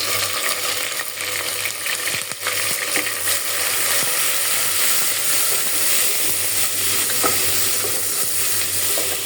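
Shrimp frying in a pan with bottle gourd and other vegetables: a loud, continuous close sizzle with a steady hiss throughout and a few faint stirring knocks, with no talking.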